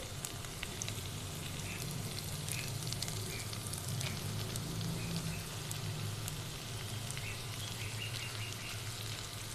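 Potatoes frying in a pan for an aloo kachori filling give a steady, dense sizzle that holds evenly throughout, with faint scattered high crackles on top and no talking.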